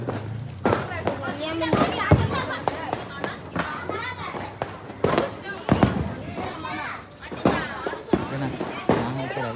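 Diwali firecrackers going off outdoors in a series of sharp, loud bangs spread across the clip, with children talking and shouting excitedly between the blasts.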